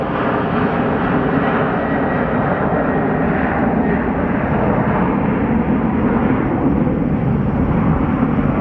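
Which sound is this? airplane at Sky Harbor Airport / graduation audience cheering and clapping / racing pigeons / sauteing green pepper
airplane at Sky Harbor Airport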